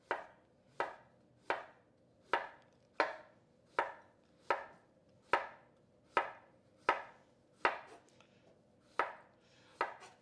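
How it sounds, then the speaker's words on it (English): A kitchen knife slices food into even pieces, making about thirteen crisp, evenly spaced chops on a cutting board, close and alone in a quiet room. "So I'm going to cut this into even slices."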